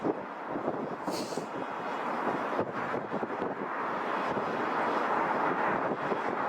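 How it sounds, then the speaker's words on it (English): Jet engine roar from a British Airways Boeing Dreamliner at London Heathrow, a steady broad rumble heard at a distance with wind buffeting the microphone throughout. "This is the Durban-bound BA Dreamliner, I think."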